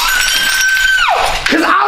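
A plate shatters with a sharp crash followed by falling shards, loud and close, alongside a falling whine and vocal sounds.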